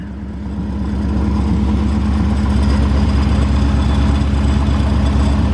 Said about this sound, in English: Sounds like the compressor clutch is making just a little bit of a rattle